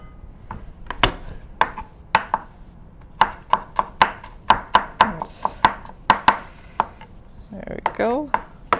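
Garlic cloves being minced with a knife on a cutting board for carrot cucumber kimchi: a fast run of sharp, close chopping taps, irregular in rhythm, with short pauses and a little rustle near the end.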